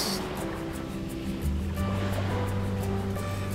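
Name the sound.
ocean waves at Jonanjima Seaside Park, Tokyo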